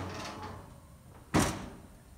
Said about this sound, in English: With the switch, we're going to just open the door, and we're going to lay this spring-loaded door down.